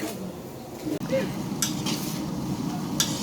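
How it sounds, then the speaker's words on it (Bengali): Spiced meat being sautéed in a pan at home, with a steady close sizzle and occasional scraping strokes of a stirring spoon against the pan throughout. "এই যে এখন মশলা কষানো হচ্ছে মাংসের।"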